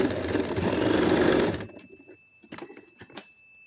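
A sewing machine stitching a lehenga runs in a loud, steady, close whir for about a second and a half, then stops, leaving faint clicks and handling noises.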